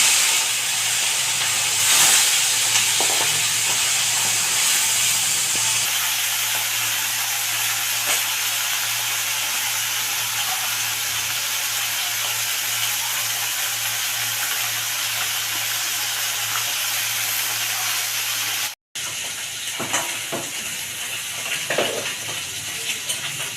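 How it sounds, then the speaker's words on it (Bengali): Small puti fish frying in hot oil give a steady, loud broadband hiss and sizzle that runs almost without a break, with a brief dropout near the end before the sizzling resumes. "এবার আমি পুঁটি মাছগুলোকে তেলের মধ্যে দিয়ে ভেজে নেব।"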